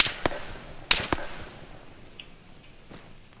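Gunfire in the Arma 3 Wasteland video game: two sharp cracks close together near the start, a third snap shortly after, then a fainter distant report, each trailing off into a quiet reverberant tail.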